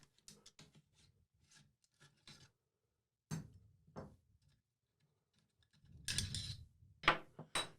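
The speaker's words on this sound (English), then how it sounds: "let's just go ahead and pull that bolt carrier group right on out" Bolt carrier group slid out of a rifle: scattered light metallic clicks and scraping rubs, with a few louder sliding clatters near the end, close and fairly quiet with no talk.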